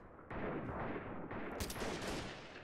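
Gunfire from the video game Freeman: Guerrilla Warfare gives a burst of loud, dense shots that run continuously across the moment, close and harsh, with a sharper crack partway through and no talking.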